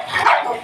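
A dog barks once, close and loud, with a short yelp-like tone in a hot shop setting; no speech is heard during the sound.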